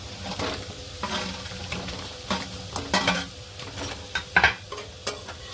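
Fried cauliflower (gobi 65) with garlic is stirred in a pan, with repeated scraping strokes and clinks of a utensil over a light sizzle, at close range with no talking.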